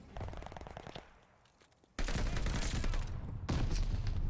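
Rapid automatic gunfire in the video game Call of Duty Vanguard rattles in dense bursts, a short volley, then a brief lull, then heavy sustained firing to the end.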